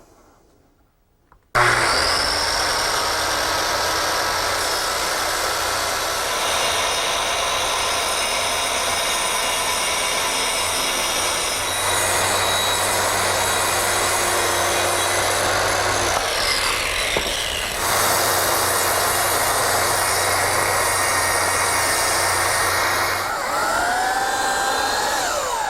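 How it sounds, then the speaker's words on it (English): A circular saw guided along a straight-edge clamp trims the end of a wooden trestle tabletop, whining loud and continuous for over twenty seconds after a brief quiet start, its pitch shifting slightly as it cuts. "this straight edge clamp, set to a couple marks, and this will become a guide for my circular saw"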